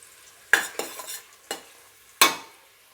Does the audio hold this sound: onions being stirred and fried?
yes